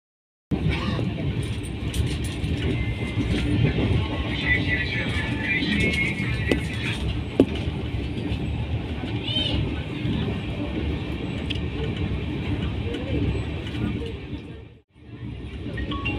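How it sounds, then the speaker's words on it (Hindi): Inside an air-conditioned coach of the 12061 Janshatabdi Express, a steady rumbling hum of the moving train runs throughout, with someone talking over it and a brief drop-out near the end. "आउटर से निकलने के बाद हमारी ट्रेन एक्सेलरेट करती है और इसकी एक्सेलरेशन स्पीड काफ़ी अच्छी है।"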